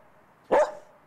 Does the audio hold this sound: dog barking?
yes